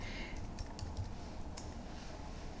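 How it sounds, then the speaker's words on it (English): Faint, quick clicks of keys on a computer keyboard as a single short word is typed, a few light taps spaced over a quiet room hum. "we're going to type in the word preview"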